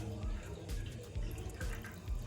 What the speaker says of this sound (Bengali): প্রথমে আমি একটা স্টিলের গামলা নিয়ে নিয়েছি। এর মধ্যে দিয়ে দেব জল